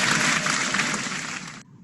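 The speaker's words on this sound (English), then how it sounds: "give both of them another round of applause" An audience applauds after a presentation, a dense, steady wash of clapping that stops abruptly near the end, leaving a faint tail.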